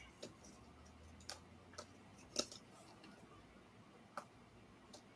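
A clock ticking in a quiet room, faint sharp ticks at irregular intervals over a soft background hum.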